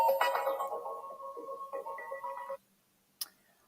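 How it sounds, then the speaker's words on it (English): Phone ringtone for an incoming call plays loud and close as a melodic electronic tune for about two and a half seconds, stops abruptly, then a brief sharp click follows in near silence. "I have a phone call."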